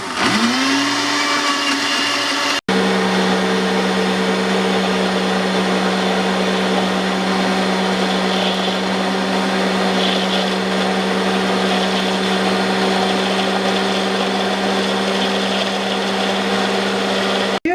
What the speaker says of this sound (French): donc on va mixer tout ça.